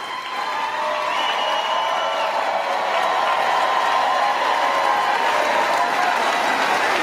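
Sustained applause from a large audience at the State of the Union, a dense continuous roar of clapping and crowd noise that holds steady throughout.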